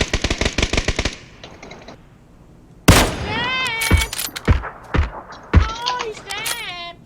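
Kar98 bolt-action rifle and other gunfire in a PUBG battle royale match, a rapid burst of shots followed by several loud single cracks, with excited voices talking over the action.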